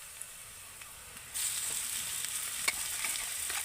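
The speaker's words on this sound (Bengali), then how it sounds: "সেদ্ধ করে রাখা আলু আর গ্রেট করে রাখা গাজরটা দিয়ে আমি ভালো করে কিন্তু একটু এইভাবে নেড়ে চেড়ে ভাজা ভাজা করে নেব" Boiled potato and grated carrot hit a pan of fried onions and green chilli, starting a steady close sizzle as the pieces are stirred and tossed, with a few light clinks.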